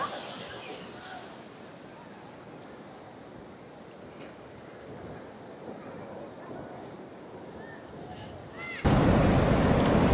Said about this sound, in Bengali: আমরাও আসলে এই মুহূর্তে সমুদ্রের গর্জন শুনছি